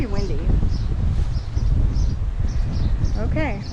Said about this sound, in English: because it's pretty windy.